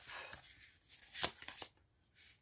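A deck of tarot cards being cut in two, soft papery riffles and slaps in a short burst of quick handling sounds, close and quiet.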